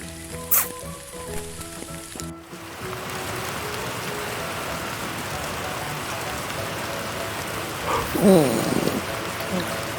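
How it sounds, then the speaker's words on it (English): Steady rain pours down in a constant hiss, with a brief musical sting at the start and a splashy burst near the end. "Yeah, it's raining. Get your umbrella."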